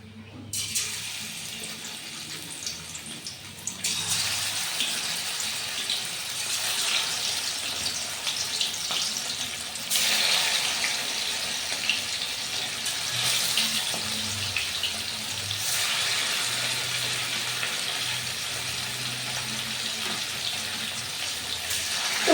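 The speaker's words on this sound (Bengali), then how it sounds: "তেল গরম হয়ে গেছে দেখতেই পাচ্ছ তো মাছগুলো আমি এরপর একটা একটা করে দিয়ে দিচ্ছি" Pieces of katla fish sizzle in hot oil in a kadai, a steady broadband frying hiss that swells in bursts as each piece goes in, close and continuous with a low background hum.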